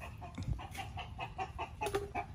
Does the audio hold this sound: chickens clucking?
yes